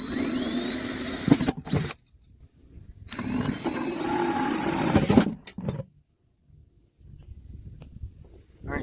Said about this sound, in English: switch to a smaller bit, go ahead and make a pilot hole, and then you'll be able to do it with the hole saw easier